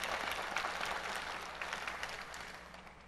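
An audience applauds steadily through the whole stretch at a university press conference introducing a new head basketball coach, a dense, even wash of clapping that fades slightly at the end.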